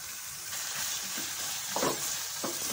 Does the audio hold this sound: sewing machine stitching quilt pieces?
no